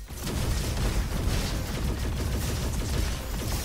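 Dual Hellions firing in the robot shooter Roboquest: a continuous, rapid stream of loud shots runs the whole time with a steady, dense rhythm.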